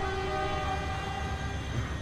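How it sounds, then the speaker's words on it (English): Diesel train horns blare together at the start of a race between trains in the video game Transport Fever, a loud, steady, sustained chord with no talking. "Listen for the horns."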